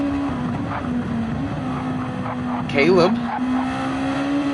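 A race car drives down the Mulsanne Straight at Le Mans, its engine holding a steady drone that shifts pitch slightly, with a brief louder surge near the middle and a commentator's voice over it.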